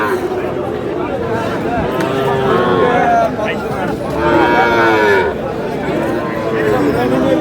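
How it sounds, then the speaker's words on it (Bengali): A Sahiwal bull moos at a busy cattle market in Pabna, with long drawn-out low calls rising above constant crowd chatter and people talking nearby. "শাহিওয়াল ষাঁড়।"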